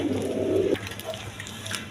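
Pigeons at a domestic bird enclosure give a low, throaty coo, one sustained note up close followed by fainter soft murmuring.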